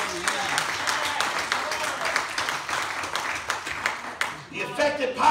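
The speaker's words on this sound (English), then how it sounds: "give God a hand clap of praise." A church congregation claps its hands in praise, a lively, uneven patter of many hands filling the room, with voices calling out beneath it and a louder swell near the end.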